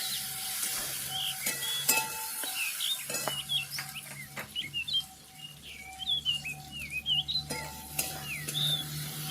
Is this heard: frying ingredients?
yes